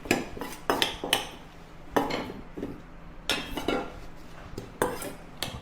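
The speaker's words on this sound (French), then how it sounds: "OK, on mélange délicatement" Spinach salad dressed with olive oil and balsamic vinegar being tossed in a bowl, heard as a series of close, clattering knocks of utensils against the dish at an irregular rhythm, with no talk.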